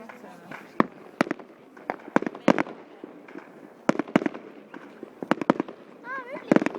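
New Year fireworks over Vaasa, Finland: many sharp bangs and crackling bursts in irregular clusters, some near and loud, others farther off, with people talking and one whistling rocket rising near the end.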